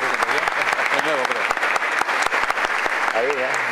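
Audience applause for guests of honor at a commemorative presentation, dense clapping throughout with a voice speaking over it intermittently.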